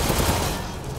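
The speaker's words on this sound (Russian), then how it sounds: "Одна и та же кнопка выстрелить пулемет." Machine gun fire from a mounted weapon in the Resident Evil Village video game rattles in a dense, continuous burst that fades slightly toward the end of the short stretch.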